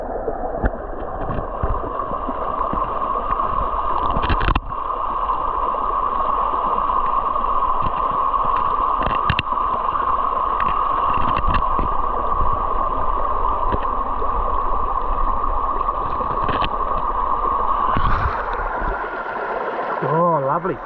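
Small waterfall pouring into a creek, heard up close as a loud, steady rushing wash, with a few knocks and splashes from nearby activity, lasting about twenty seconds.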